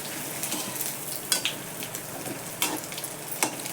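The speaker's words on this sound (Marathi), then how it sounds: "आता किस तळून घेते." Homemade grated potato shreds fry in very hot oil, giving a steady close sizzle with a few sharp clinks and scrapes of a utensil as the shreds are stirred.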